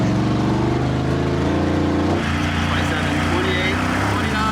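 A monster truck's engine roars loud and steady as it accelerates on a speed run, the pitch climbing and then shifting midway, as though through a gear change.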